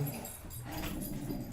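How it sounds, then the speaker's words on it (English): Several dogs bark and whimper in short excited bursts, close and fairly loud, with no talk over them. "My dogs are going nuts."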